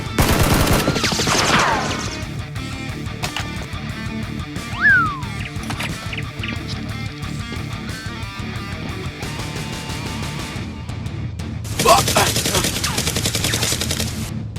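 Bursts of Nerf gunfire crackle through a busy, dense mix of music and effects, with sharp volleys near the start and again toward the end.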